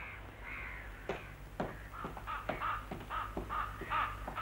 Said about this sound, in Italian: Ci sono i corvi in camera mia.